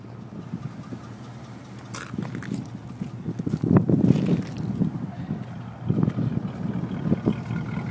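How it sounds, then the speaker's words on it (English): A 1987 Chevrolet El Camino with a small-block engine and a brand-new exhaust idles close by. Its low, steady rumble swells and eases a little, mixed with some wind noise, and nobody talks. "Hear her run. Brand new exhaust run through her."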